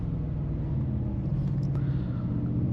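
Steady, close low rumble of a Mercedes G-Wagon engine running, even and unbroken for a few seconds with no voices over it.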